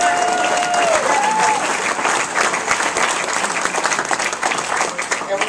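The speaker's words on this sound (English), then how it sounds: "give him another round of applause." Sustained applause from an audience at a political event, dense steady clapping that fills the space with a few voices in the crowd and tapers slightly toward the end.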